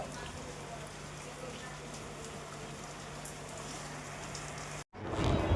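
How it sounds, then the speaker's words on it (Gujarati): Steady rain pours down in a village in a constant hiss with a low hum underneath, briefly cut off before a louder burst of rainfall near the end. "અત્યારે જો સારો વરસાદ પીડ્યો છે"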